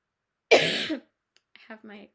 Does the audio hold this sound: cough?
yes